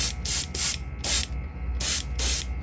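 Short bursts of airbrush spray paint coat a custom fishing lure, about six hissing puffs in an uneven rhythm, close and clear with no talking.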